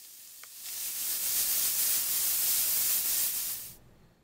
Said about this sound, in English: Right before serving, these bits go into a hot frying pan.